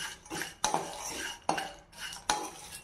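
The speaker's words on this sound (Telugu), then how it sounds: "ఇవి సిమ్లోనే పెట్టుకొని దోరగా వేయించుకోవాలి." Masala tea spices roast in a pan on a low flame while a metal spoon stirs, scraping in slow strokes with three sharp clinks against the pan, close and quiet.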